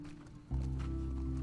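Horse hooves clip-clop in The Last of Us Part II, a steady game sound with a low rumble that swells after the first half second.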